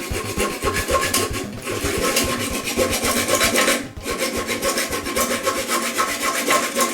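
A hacksaw cuts through a metal toilet bolt beside a new china toilet, giving loud, close, rhythmic rasping strokes in a steady back-and-forth pattern with one short pause midway and no speech.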